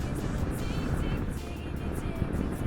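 A Kawasaki Vulcan S motorcycle climbs a steep hill, its engine a steady, loud, broadband roar that holds throughout with wind rush layered on top.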